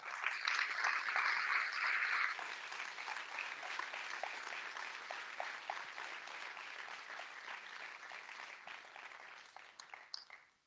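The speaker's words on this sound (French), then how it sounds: "Alors, beaucoup d'applaudissements pour eux." Sustained audience applause at a festival closing ceremony, a dense crowd clapping loudly at first, then easing to a steady, slightly softer patter that thins out near the end.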